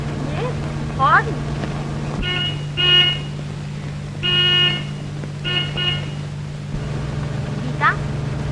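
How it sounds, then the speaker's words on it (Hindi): Car horn toots several times, short harmonic honks repeated in bursts over a steady low engine hum, with people speaking between them. "हॉर्न?"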